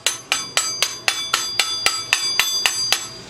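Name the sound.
hammer tapping motorized bicycle rag joint sprocket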